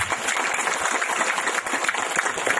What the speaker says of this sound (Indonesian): Tepuk tangan buat ayah ibu kita semua.